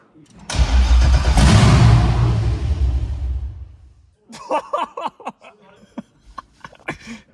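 A Corvette Z06 C6 7-liter cammed V8 with headers fires up with a loud, raspy roar for about three seconds, then cuts off; someone speaks excitedly afterward.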